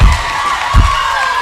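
A wrestling arena crowd roars for a championship triple-threat match, a loud sustained wash of cheering with a couple of heavy thuds beneath it.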